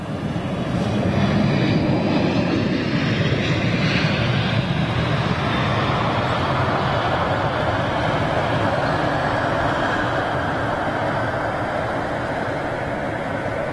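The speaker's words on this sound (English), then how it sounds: "Japan Airlines, a Dreamliner going out" A Japan Airlines Boeing Dreamliner departs Heathrow Airport, its jet engines roaring loud and sustained as it climbs away, a broad steady rush with no talk over it.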